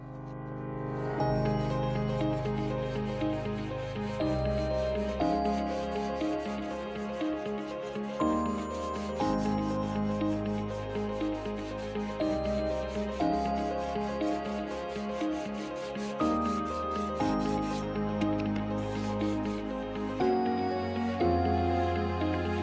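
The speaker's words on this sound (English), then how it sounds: "So now I got the sanding block and the 80 grit, and we're just going to go like this." A sanding block with 80-grit paper rubs back and forth over Bondo filler on wooden furniture in a long, steady run of rasping strokes, with a tonal background underneath.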